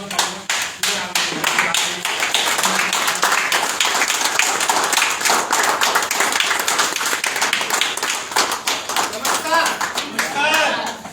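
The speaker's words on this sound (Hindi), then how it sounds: "एक बार आप लोग जोरदार तालियों के साथ खड़े होकर" A workshop audience stands and claps loudly, a sustained dense burst of many hands applauding together with voices mixed in, lasting the whole stretch.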